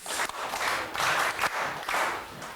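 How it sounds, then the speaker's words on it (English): Grade 8 students in a classroom clap together, a dense, fairly loud burst of group applause lasting a couple of seconds with a few slight pulses in the rhythm. "I'd like you to give yourselves 5 big claps."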